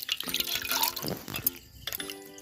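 Panipuri (fuchka) water being stirred and mixed by hand in a bowl, giving soft wet sloshing and dripping sounds up close, with a few brief splashes and no talking.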